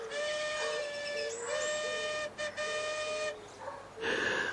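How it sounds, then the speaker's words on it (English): A steam train's whistle blows in long sustained tones on approach, broken by short pauses, followed by a burst of hissing at the end. "the faint chuff, chuff of my approaching train"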